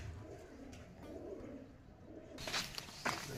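Female pigeons cooing at a loft, low soft coos under rustling and background noise, with a brighter burst of activity near the end.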